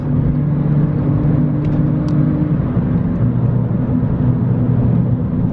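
Supercharged R53 Mini Cooper S engine while driving at around 30 mph, a loud steady droning hum with a constant whine heard from inside the cabin, no talking.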